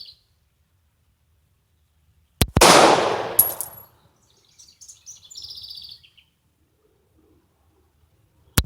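Walther P38 pistol fires at a target: a few sharp, loud reports spaced seconds apart, each with a short ringing decay, amid otherwise quiet surroundings.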